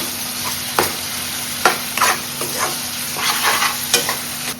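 Chopped tomatoes frying in oil for an egg curry, a continuous close sizzle broken by repeated scraping stirs of a spoon in the pan, with no talking.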